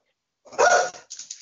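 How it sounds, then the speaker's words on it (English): A dog gives a short, sharp bark and then a second, softer burst of barking, loud and close in an otherwise quiet room. It is reacting to someone walking outside. "My dog, she must see somebody outside walking"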